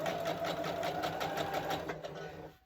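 Sewing machine stitching quilt squares together, a steady fast whirring run close up that slows and stops at the end, with no voices.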